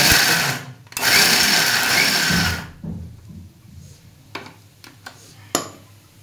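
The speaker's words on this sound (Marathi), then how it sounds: "मग शेंगदाणे नॉर्मल बारीक करून घ्यायचे मिक्सरमध्ये." A kitchen mixer grinder loudly whirs as it grinds peanuts for sabudana khichdi, running in two steady bursts separated by a brief pause, then cutting off, leaving low clatter and a few sharp knocks afterward.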